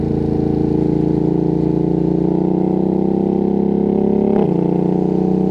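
A Ducati Streetfighter V2S motorcycle engine drones loud and steady at high revs, with one quick, abrupt quickshifter gear shift that briefly breaks the tone near the end.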